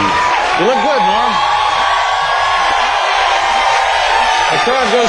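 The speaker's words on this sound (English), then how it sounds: "The crowd goes crazy." A studio audience at David Letterman's late-night talk show roars for comedian Norm MacDonald, a loud, sustained wall of cheering with rising whoops and yells throughout.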